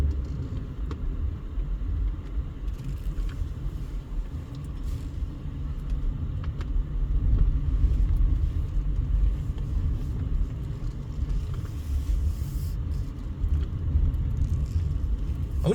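A car rolls along a quiet no-outlet residential road in a small desert town and makes a turnaround, giving a steady low engine and tire rumble that swells slightly midway, with no voices.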